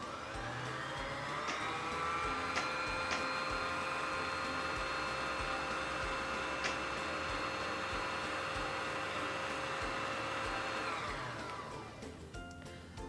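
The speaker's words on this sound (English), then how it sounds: "Now, wind it either until it is full or until you're satisfied with how much thread is on your bobbin." A Singer Fashion Mate 3342 sewing machine winds thread onto a bobbin, its motor holding a steady, loud whir that runs unbroken for about eleven seconds before spinning down near the end.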